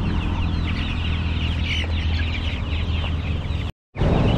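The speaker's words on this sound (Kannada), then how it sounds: "ಇದು ಗಿರಿರಾಜ ಮರಿ." Giriraja chickens cluck and chatter in a group at a poultry sale, a busy close flock sound with repeated short clucks over a steady background hum, briefly cut to silence near the end.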